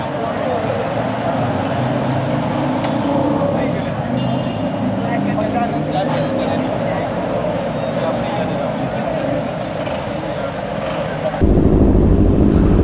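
A KTM 200 motorcycle engine drones steadily under heavy wind rush while riding on the road. The roar holds for about thirteen seconds and swells louder near the end.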